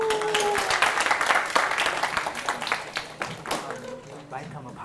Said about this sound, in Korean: 강의해 주신 우리 교수님께 다시 한번 큰 박수로